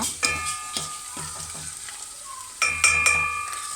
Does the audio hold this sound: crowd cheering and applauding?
no